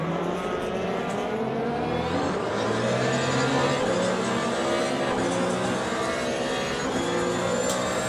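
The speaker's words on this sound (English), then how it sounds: "Real life Ferrari sounds exactly like this." A Ferrari race car engine in Le Mans Ultimate roars steadily, high-pitched and continuous, shifting pitch as it accelerates through gears with no pauses.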